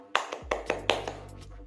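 A few separate claps in a primary school classroom, sparse and fairly close, a short ragged handful rather than full applause, with a low hum underneath.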